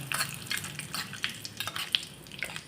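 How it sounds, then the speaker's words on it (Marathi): Cumin seeds and curry leaves sizzle and crackle in hot oil, quiet close popping and spitting in irregular bursts with a faint clink of a pan, no voices. "त्याच्यानंतरच जिरे घालायचं आणि थोडा कढीपत्ता घालायचा. कढीपत्ता घातल्यामुळे खूप छान फोडणी बसते"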